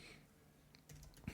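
Quiet computer keyboard typing at a desk while coding, a short burst of soft key clicks that ends in one sharper tap.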